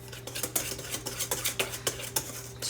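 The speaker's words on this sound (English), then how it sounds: "So I'm going to whisk that together real quick." Dry scone ingredients being whisked together in a bowl, heard as a quick run of rhythmic metallic taps and scrapes of whisk against the bowl, close and clear with no talk.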